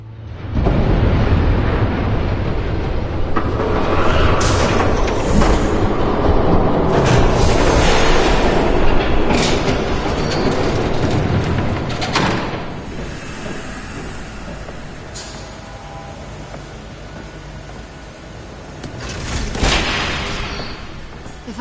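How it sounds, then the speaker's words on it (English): A train passes by in the video game Batman: The Telltale Series, a loud sustained rumble and hiss across the whole stretch, swelling in the middle and again near the end, with no talk over it. "There's a train coming."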